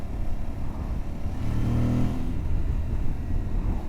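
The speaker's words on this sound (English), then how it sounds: "I think this engine really suits this bike. Parallel twin." Parallel-twin engine of a 2025 Aprilia Tuareg 660 motorcycle hums steadily beneath rushing wind, rising briefly in pitch as it revs up, then settling back to a cruising drone.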